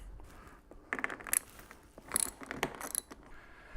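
Ratchet clicking in quick bursts while the inside windshield bolts come off a 2008 Harley-Davidson Ultra Classic, close and fairly faint metallic ratcheting with brief pauses between strokes.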